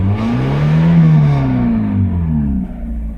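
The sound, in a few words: Miata engine running with slight alternator belt whine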